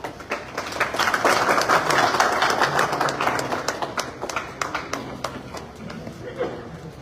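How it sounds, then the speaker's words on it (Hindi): An audience at a car delivery ceremony breaks into loud applause, a dense burst of clapping that swells and then tapers off into scattered claps, with voices speaking over it. "एक जोरदार तालियां होनी चाहिए रितेश सर के लिए।"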